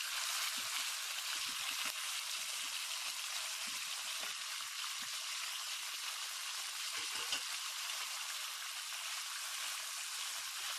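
Minced meat (keema) hitting hot oil in a pan for a dum keema dish, giving a steady, loud, broadband sizzle that holds evenly from start to finish with no voices.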